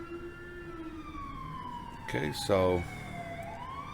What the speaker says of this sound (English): rumbler siren.